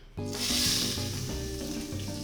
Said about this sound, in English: So we want to cook the onion until it softens and wilts.